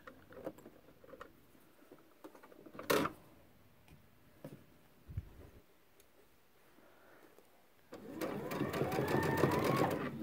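A sewing machine stitches fleece for a Christmas stocking at a 3 mm stitch length: scattered quiet clicks and taps, then a sustained, close run of rapid stitching near the end.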